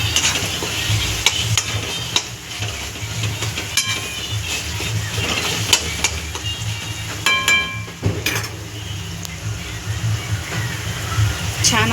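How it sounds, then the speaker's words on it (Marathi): Spiced masala paste frying and being stirred in oil in a pan for a dry chicken dish, a steady sizzle with scraping stirs throughout, under a voice talking. "छान आपला मसाला फ्राय होतोय."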